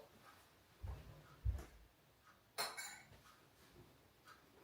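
A spoon is picked up in a home kitchen while a pulled pork stroganoff simmers, giving a few soft clinks and knocks of metal cutlery against cookware, with a brighter clatter near the end in a quiet room.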